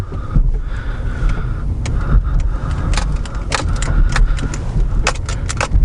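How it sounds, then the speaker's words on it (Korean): Interior car rumble in a Hyundai Avante HD with a series of rattles, knocks and creaks as the car rolls over a speed bump, low road noise continuing underneath. "방지턱 넘으면서 서스펜션 소리 한번 들어볼게요"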